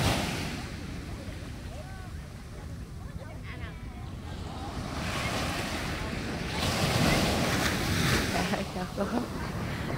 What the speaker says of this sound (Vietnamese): Sóng sóng cũng rất là mạnh luôn cả nhà.